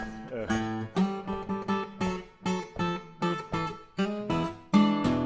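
Guitar blues turnaround played as a substitute, a sequence of about a dozen plucked chords and notes with a bouncy, uneven rhythm, clear and close with no talking.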